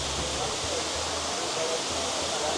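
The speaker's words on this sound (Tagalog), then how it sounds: "So dinig na dito guys yung tunog ng tubig, yung waterfall" Rushing water from the waterfall at Tirta Empul in Ubud, Bali, a steady broadband roar that holds at an even level throughout, with faint low rumbles underneath.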